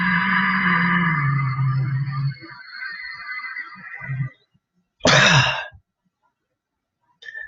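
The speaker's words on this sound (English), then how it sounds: "And let it out. All the breath at once." A forceful breathy exhale pushes out a full lungful of air at once; a strong, noisy burst close by, alone, after a stretch of throaty vocal sound and quiet breathing.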